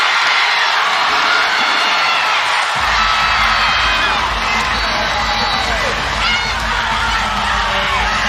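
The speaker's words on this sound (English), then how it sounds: "You can see the cameras on their platform shaking because of the crowd noise right now" A packed arena crowd at a women's college volleyball regional final between Oregon and Louisville roars loudly, with shrill whistles, screams and whoops, and a deep rumble swelling partway through as the cheering stays intense throughout.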